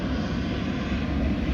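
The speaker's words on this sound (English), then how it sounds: "Planes." An airplane passes overhead, its engine making a steady, broad rumbling roar that fills the whole moment, loud and continuous with no voices.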